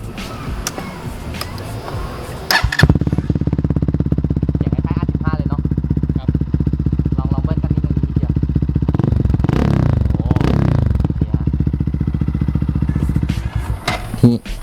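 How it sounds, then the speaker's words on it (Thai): A GPX Demon GR200R sport motorcycle idles with a throaty, rumbling exhaust, then revs up sharply a few times before settling back, loud and close. "ทีนี้เราจะมาฟังเสียงท่อง่ายๆเลยได้ครับผม"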